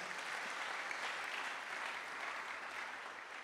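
A church congregation applauds during a French-language sermon, with steady, dense clapping filling the room continuously and evenly, with no talk over it.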